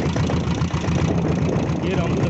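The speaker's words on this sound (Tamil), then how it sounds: "டாப்பில் எவ்வளோ ஸ்லோ ஸ்பீடு போகுதுன்னு பாருங்க" A Royal Enfield diesel Bullet engine thumps steadily at low speed in top gear, a loud and close rhythmic chug throughout, with someone talking over it.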